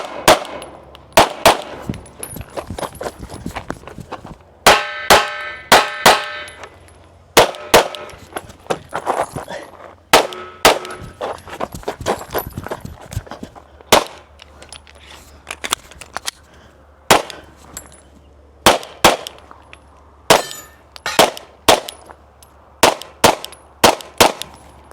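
Rapid pistol shots crack in bursts at a shooting competition, with ringing metallic pings from steel targets following many hits; sharp, loud and close, some 27 shots in uneven strings with short pauses.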